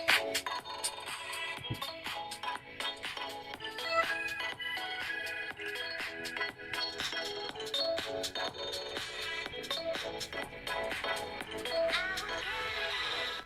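Music plays steadily from the stereo speakers of a Xiaomi Redmi Note 13 Pro+ 5G smartphone, busy and bright with a clear beat, continuous and moderately loud throughout, with no talking.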